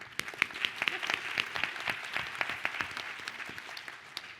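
An audience at a women-in-trade program applauds the panelists, a moderate, somewhat distant patter of clapping with distinct individual claps standing out, sustained evenly throughout.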